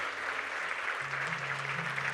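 An audience claps steadily to welcome Nitin Gadkari at a Sri Chaitanya Academy centre opening in Nagpur, a continuous even wash of hands with a low hum beneath.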